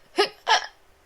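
Two sharp hiccups, one right after the other, close and clear with brief quiet between them and no talking.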